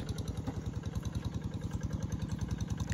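A tractor engine chugs steadily in a rice field at planting time, a rapid even low thumping that stays faint and constant throughout.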